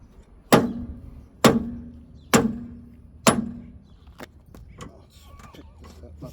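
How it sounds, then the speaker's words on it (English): A dead blow hammer strikes a metal hydraulic drive motor from a Broce RC350 broom sweeper four times in an even rhythm, each hit loud and close with a short ringing tail, followed by lighter clanks and shuffling. "Use the dead blow hammer so we don't scar up the metal"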